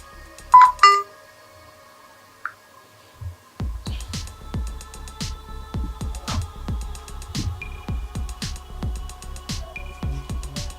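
A voicemail system plays a short electronic beep tone, then a line hum, followed by a run of rapid tapping pulses, all fairly loud and close with no voices.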